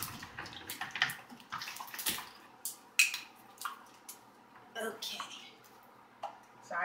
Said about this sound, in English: so I just pour water in it